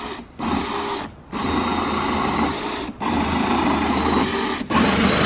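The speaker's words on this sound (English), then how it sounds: "Proper drill, mate." A power drill whirs loudly in long sustained bursts, stopping briefly three times between runs, close by and with no talking.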